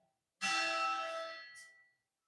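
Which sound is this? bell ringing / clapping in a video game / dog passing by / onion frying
bell ringing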